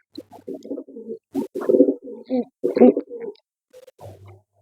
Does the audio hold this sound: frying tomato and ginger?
no